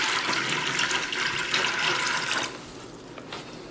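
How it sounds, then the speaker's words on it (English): Half a gallon of water poured into a jug for mead, a steady splashing, gurgling stream lasting about two and a half seconds before cutting off, leaving quiet room tone. "I'm going to put my half gallon of water into here"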